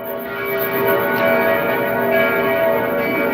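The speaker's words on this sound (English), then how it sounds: "You hear the church bells." Church bells ring from a church close by, carried in through an open window as a steady, resonant wash of overlapping tones that holds at a moderate level throughout.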